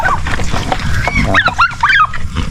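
Farm pigs and turkeys crowd together at feeding time on a Philippine farm, with loud close gobbling and honking bird calls over a bed of grunting and shuffling.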